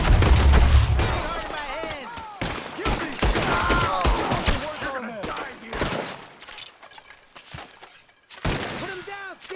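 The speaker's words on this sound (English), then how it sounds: "Shoot the ones up there first!" Gunfire from a Red Dead Redemption 2 shootout, with a loud burst of rapid shots at the start and scattered cracks after it, mixed with shouting voices and game sounds.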